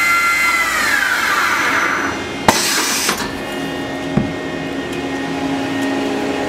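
The spindle of a Wasino WMC3 vertical machining center runs at 3,500 RPM a couple of feet away. A loud, steady high whine falls in pitch early on, with a few sharp clanks and clicks over it.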